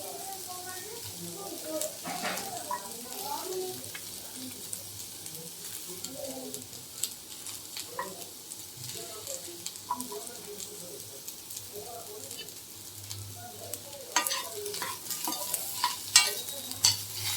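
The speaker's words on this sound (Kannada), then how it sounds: "ಇದ್ರ ಜೊತೆಗೆ ಫ್ರೈ ಆಗುತ್ತೆ. ಇದಕ್ಕೆ ಬೆಳ್ಳುಳ್ಳಿ ಹಾಕ್ತಿದ್ದೀನಿ." Garlic frying in hot oil for a raw mango chutney, stirred now and then, with a steady low sizzle broken by scraping strokes and clinks of the spoon in the pan.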